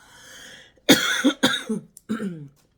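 Three sharp, harsh coughs in quick succession, close and loud, following a faint breathy sound.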